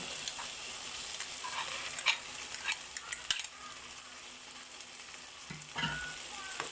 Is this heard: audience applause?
no